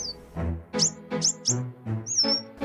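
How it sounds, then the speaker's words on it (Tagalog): Garden sunbirds give a run of sharp, high chirps and whistled calls in the morning, close and clear, repeated about six times with short gaps, under a narrator's speaking voice. "isa-isa nang nagsisilabasan ang makukulay na ibon para mag-almusal"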